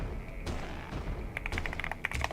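Fast, light key clicks from a GK600 TKL wireless keyboard come in quick bursts during a typing game, with soft thuds at the start.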